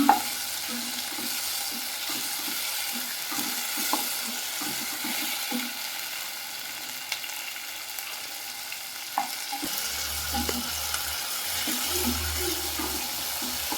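Tomatoes with salt fry for sambar in a pan, a soft continuous sizzle with intermittent stirring scrapes, and a low hum appearing in the latter part, nearby and fairly quiet.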